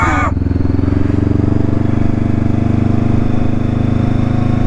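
Honda CBR500 motorcycle engine droning steadily at high revs as its wheel spins in slippery mud, a loud continuous buzzing roar throughout with no talk.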